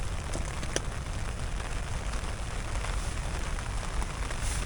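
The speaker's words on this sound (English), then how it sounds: "I'm pretty much in the middle of Kensington Gardens and it's raining." Early-morning rain in Kensington Gardens, central London, falling steadily and densely, a constant close hiss with scattered drips and patters, likely on an umbrella shelter overhead.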